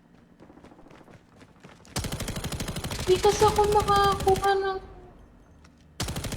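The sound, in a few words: gunfire in a video game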